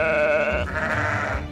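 A sheep in the Minecraft video game gives a single drawn-out bleat with a wavering, nasal tone, heard alone and up close.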